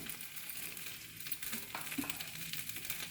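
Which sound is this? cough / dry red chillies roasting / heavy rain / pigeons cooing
dry red chillies roasting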